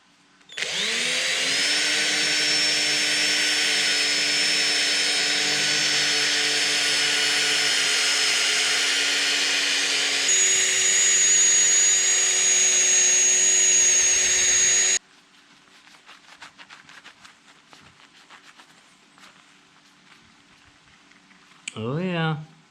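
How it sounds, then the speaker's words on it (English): A power drill fitted with a polishing pad, polishing glass, whirs loudly and steadily for about fifteen seconds, its pitch stepping down partway through, then cuts out, leaving quiet handling noise and a brief buzz. "Maybe I'll drop my drill RPM for a second until I get going."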